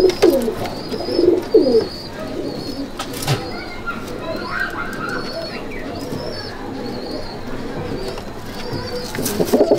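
Pigeons in a pigeon loft at Sangrampur coo in low, throaty rolls, strongest at the start and returning near the end, with scattered higher chirps and faint rustling throughout.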